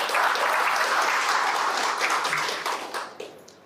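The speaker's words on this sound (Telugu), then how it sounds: "ఆవిడ అమ్మ మనసుకి మనం గట్టిగా చప్పట్లు కొట్టి అభినందించాలి" Loud, dense applause from an audience at a clinic and community gathering fills the space steadily, then thins and tapers off toward the end.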